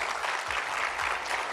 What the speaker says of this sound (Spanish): Por favor, un aplauso para Angie.